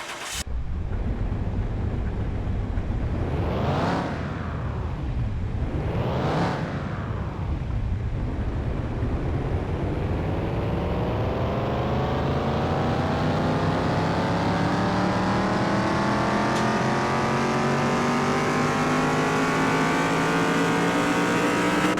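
A car in Car Mechanic Simulator 2021 revs hard on a dynamometer, with two quick throttle blips climbing and falling before a long sustained wide-open sweep whose rising engine harmonics build steadily and loudly to the end.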